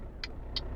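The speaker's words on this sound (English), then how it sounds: "Engine on." A heavy truck engine in the Euro Truck Simulator 2 driving game rumbles low and steady, with two short, crisp clicks about a third of a second apart.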